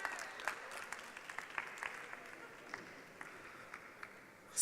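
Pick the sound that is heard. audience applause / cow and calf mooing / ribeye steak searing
audience applause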